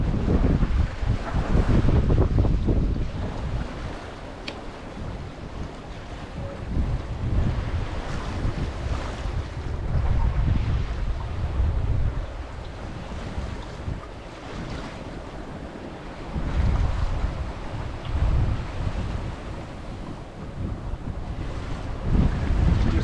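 Wind and waves roar continuously around a cruising sailboat under reefed foresail and mainsail as the breeze rises, with heavy gusting wind noise and rolling surges of water and no talk.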